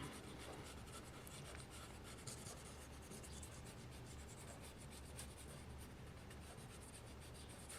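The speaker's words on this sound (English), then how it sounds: "Let's go ahead and erase some of those initial guidelines." Faint, continuous scratchy rubbing of an eraser working pencil guidelines off a paper chibi drawing, steady back-and-forth friction with no talk.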